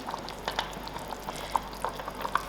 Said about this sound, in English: 40 minutes has passed us, and this meat has been cooking slowly.